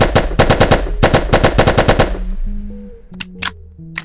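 Mark 18 rifle firing in a VR ragdoll shooter game: two rapid automatic bursts of loud, close gunshots, then mechanical clicks and low tonal game sounds.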